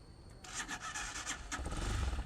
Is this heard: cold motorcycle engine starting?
yes